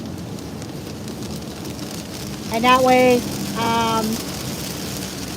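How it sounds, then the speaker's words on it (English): Rain falling during a road trip to Maryland, getting harder, a steady broadband hiss across the whole stretch with a car engine droning underneath while someone talks briefly in the middle. "it's getting a little bit harder rain"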